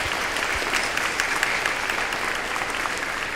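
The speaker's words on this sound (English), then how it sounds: "So give your parents another round of applause." A crowd at a military ceremonial review and change of command ceremony gives the parents of cadets a steady round of applause, a dense, even wash of clapping from many hands.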